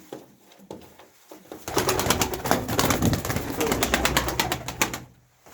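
A pet pigeon coos in a run of rapid, repeated throaty pulses that rise from quiet to loud and then stop, close by, with a faint voice at the start.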